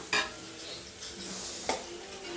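Crushed shallots stirred into onions already browned in a pan for chicken curry, with a few sharp scraping stirs over a steady low sizzle, fairly quiet and close.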